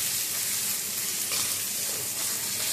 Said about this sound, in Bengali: এবার মশলাটা খুব ভালো করে কষাবো, মশলা যতক্ষণ না তেল না বেরিয়ে যায়।